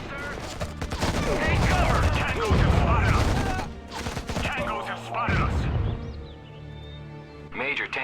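Gunfire during an ambush in Act of War: Direct Action, rapid volleys and machine-gun bursts crackling close and loud while radio-style voices talk over the shooting, fading toward the end.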